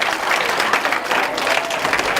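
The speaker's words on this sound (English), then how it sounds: "Applaud them, please." An audience at a school gathering bursts into warm applause for the teachers, a dense, even burst of clapping from many hands.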